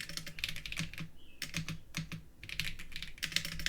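An old computer keyboard clatters under quick bursts of typing, with close, crisp keystrokes in uneven clusters and short pauses between them.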